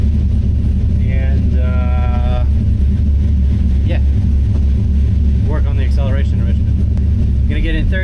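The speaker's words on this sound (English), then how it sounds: "third gear, gonna hold the dyno about 2000 RPM and give it some throttle" A car engine, fitted with Holley Terminator X EFI, runs on a chassis dyno in third gear, held near 2000 RPM under throttle. A loud, steady, close drone runs throughout, and a voice is heard briefly over it.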